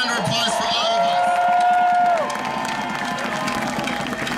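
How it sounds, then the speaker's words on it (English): A rally crowd at an outdoor anti-hate demonstration breaks into sustained applause and cheering, a dense wash of clapping and voices at moderate distance that dips slightly in level partway through. "let's give a big round of applause for all of"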